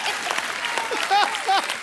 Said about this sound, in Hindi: ठोको ताली ठोको.